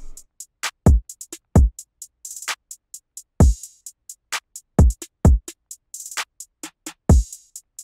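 A programmed drum beat with deep punchy kicks, snares, a clap and crisp ticking hi-hats, including an open hi-hat hiss, plays in a sparse, syncopated pattern, loud and clean with no voices.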